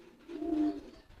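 A homing pigeon gives a single soft, low coo, close and clear, rising and fading within about a second against a quiet background.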